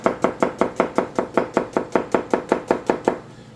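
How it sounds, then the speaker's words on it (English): A knife slices white onions thinly on a cutting board, about fifteen crisp, evenly spaced chops in a steady rhythm, close and clear with no talking. "we are going to cut these"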